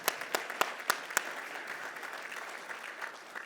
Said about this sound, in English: Big round of applause to all of you guys.